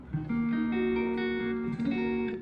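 A soft, mellow note from a PRS-style electric guitar with three humbuckers rings out with warm sustained harmonics, steady and close, without talking.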